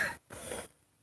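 A person coughs twice in quick succession, two short breathy bursts close to the microphone, with nothing else around them.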